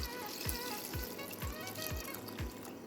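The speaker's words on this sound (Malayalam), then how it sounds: "ഇനി നമുക്ക് ഇതിനാവശ്യമായിട്ടുള്ള വെള്ളം വെച്ച് കൊടുക്കാം." Water is poured into a pressure cooker holding mussels and vegetables for soup, a soft, close trickle with faint, regular low thumps underneath.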